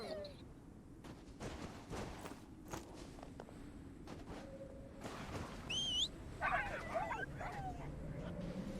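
Dogs in the video game Fade to Silence bark, yip and whimper in short scattered bursts among footstep crunches over a steady wintry background, with a few higher whines.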